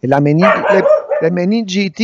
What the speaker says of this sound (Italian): scusate per il cane che ha, fatto, che ha abbaiato